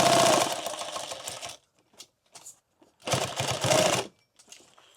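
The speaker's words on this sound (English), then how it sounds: "We're just going to sew that on to the back." Sewing machine stitching a microfiber tactical glasses pouch, two loud sustained bursts of rapid mechanical whirring with a brief quiet gap and small handling clicks between them.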